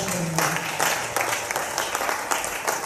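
A church congregation at a Pentecost retreat applauds the Lord, with a steady run of handclaps that sits at moderate loudness in a reverberant room and carries on evenly to the end.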